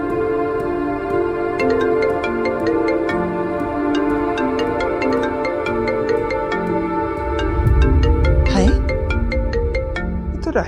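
Mobile phone ringtone for an incoming call, a repeating melodic tone pattern playing steadily, with a louder rustle near the end as the phone is picked up.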